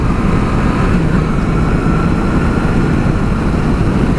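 Engine and wind roar from a 2019 Yamaha FJR 1300 AE sports touring motorcycle pulling hard under acceleration, steady, loud and dense throughout with no talk.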